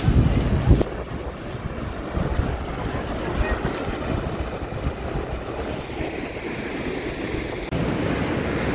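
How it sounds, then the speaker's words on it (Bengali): Ocean waves at Crystal Cove State Beach in California roar and wash ashore in a continuous broad rush, with a louder surge at the start and wind buffeting the microphone throughout. "একটা জোরে ঢেউ দিল"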